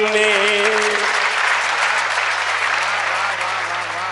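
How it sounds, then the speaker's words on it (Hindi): A crowd at a Hindi poetry recitation breaks into loud, sustained clapping, with a brief tone and some sliding electronic whistles over the continuous applause. "एक बार जोरदार तालियां बजाइए आप अपने लिए"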